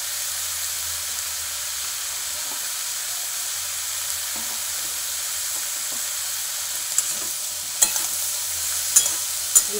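Kalai greens stirred and frying in a pan, a steady close sizzle with soft scraping strokes and a few sharper clinks of the spatula toward the end, no talking.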